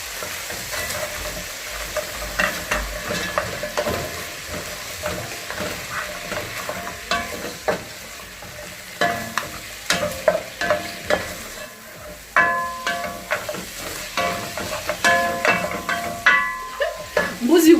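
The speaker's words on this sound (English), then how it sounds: "this stage that you drop in your red onions" Red onions dropped into a drying pot of goat wet fry, sizzling with repeated scraping stirs and clanks that grow busier toward the end, a voice talking at times over the cooking.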